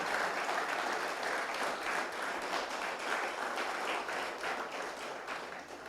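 A church congregation applauds vigorously during a Spanish-language service, a dense, steady roar of many hands clapping that fades slightly toward the end.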